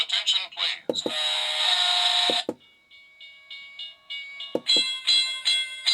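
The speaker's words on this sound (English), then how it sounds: "There's the bell that I want right there" An HO scale model railroad crossing sounds its electronic bell through a small speaker, a bright ringing that plays in bursts broken by clicks and gaps, with a person talking in between.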